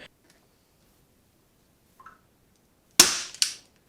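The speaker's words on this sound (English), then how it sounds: "the staple gun that I have is a piece of crap" A staple gun fires staples into an ATV seat cover for a Yamaha Banshee 350. After a faint click come two sharp, close snaps in quick succession, then silence.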